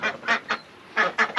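Ducks on a farm quack in loud bursts while being moved out of a muddy pen: about six raspy calls arrive in two quick clusters, separated by a short lull, with no talking.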